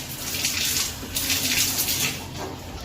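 Water runs steadily over a bathroom or kitchen tap as it is scrubbed clean, a loud, continuous broadband splash that surges and eases across a few seconds, with no talk.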